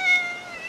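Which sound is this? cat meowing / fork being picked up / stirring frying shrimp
cat meowing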